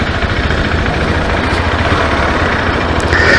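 Motorcycle engine running steadily during a ride around town, a constant low rumble with broadband road and wind noise, loud and close throughout with no talking.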